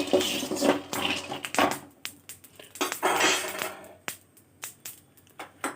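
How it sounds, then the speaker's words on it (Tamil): Peanuts roast in a metal kadai, giving a dry clattering and rattling as they are tossed, coming in irregular bursts close by with short pauses between. "கடாயில் வேர்க்கடலை போட்டு நல்லா வறுத்துக்கலாம்."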